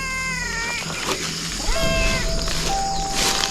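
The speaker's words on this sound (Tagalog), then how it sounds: "Parang lumayo yung boses ng pusa" A cat meows repeatedly, long drawn-out wails with shifting pitch, fairly close, over a faint background hum and a steady whistle-like tone.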